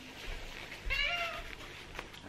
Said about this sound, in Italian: Gatto Denver è arrivato